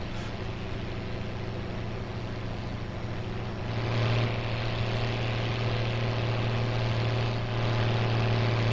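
A loud straight-pipe tractor engine in Farming Simulator 17 drones steadily, its low rough rumble swelling slightly partway through and holding, with no talking.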